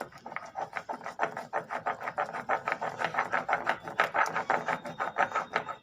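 Thankuni and mint leaves are ground for chutney with a steady back-and-forth rasping rub, rhythmic strokes about three per second, close and moderately loud without speech.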